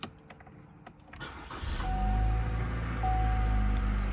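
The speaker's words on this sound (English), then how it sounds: "Now we're gonna start the vehicle up." A 2019 Chevrolet Malibu with the 1.5T engine starting: a few clicks and a short whirring crank, then the engine catches and settles into a loud, steady idle up close.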